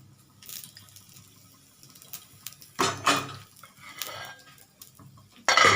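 A metal lid set down on a cooking pot, a few scattered clanks and scrapes with a louder knock near the end, close by in a quiet kitchen.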